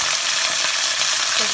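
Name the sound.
green chilies and curry leaves sizzling in hot oil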